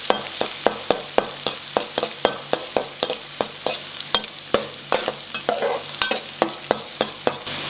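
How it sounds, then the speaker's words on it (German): Shallots sizzle in hot oil in a pan for pineapple fried rice while a utensil stirs them, sharp regular scraping strokes about every third of a second over a steady close crackle of frying. "Schalotten braten."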